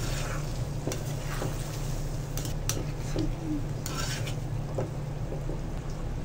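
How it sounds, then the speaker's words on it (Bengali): Olives being stirred in hot oil in a pan for a sweet-sour-spicy pickle, with soft scraping and utensil clinks over a steady low sizzle, close and continuous. "এখন ভালো করে কিছুক্ষণ নাড়তে থাকবো।"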